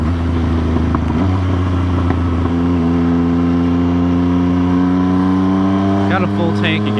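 A motorcycle engine hums steadily while riding, its drone shifting in pitch as it changes gears, loud and close throughout with a brief voice near the end.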